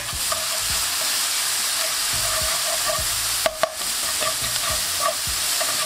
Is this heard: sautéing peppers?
yes